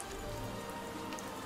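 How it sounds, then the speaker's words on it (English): Steady rain falls as a dense, even hiss of drops pattering on a surface, filling the whole short stretch at a constant level with no voices over it. "Bro, is this rain too loud?"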